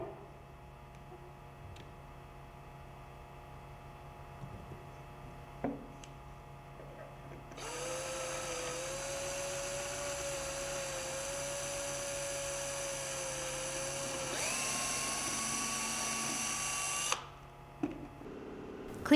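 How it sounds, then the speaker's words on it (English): A power drill spins up and whines steadily for several seconds as it drills through rubber in a cup, its pitch shifting partway as it bites, then stops; a few faint clicks come before and after. "Then drill through the rubber."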